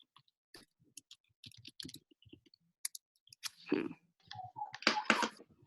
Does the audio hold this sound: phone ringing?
no